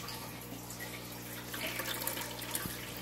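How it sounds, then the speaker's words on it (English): Steady running water pouring and splashing into a fish tank, a continuous close gurgling stream with no voices. "A little bit more water for him."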